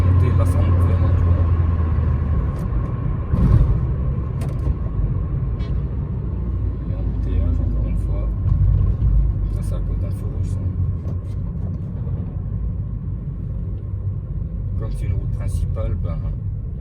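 A Ford Focus 2 sedan running on LPG accelerates uphill, its engine a steady low rumble with road noise throughout, heard from inside the car.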